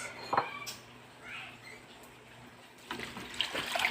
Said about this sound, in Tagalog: Lagyan natin ng tubig guys.